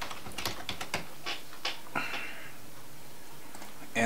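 Computer keyboard typing, a quick cluster of close key clicks early on, then scattered taps that trail off into quiet near the end.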